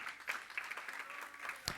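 A congregation claps along during a Spanish-language church sermon, with scattered, fairly quiet handclaps at a loose rhythm and one sharper clap near the end.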